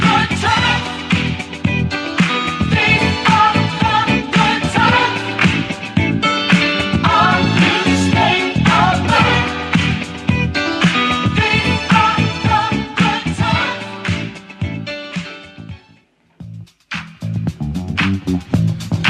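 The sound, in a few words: hip-hop music playing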